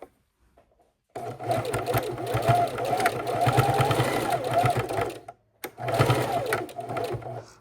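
A sewing machine backstitches repeatedly over the corner of a fabric travel neck wallet, whirring steadily and close for several seconds, pausing briefly, then running again.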